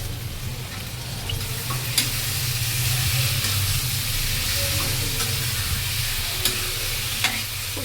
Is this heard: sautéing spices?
yes